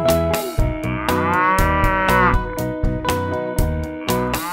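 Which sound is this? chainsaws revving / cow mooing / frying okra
cow mooing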